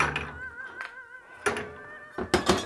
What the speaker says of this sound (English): Top with ice.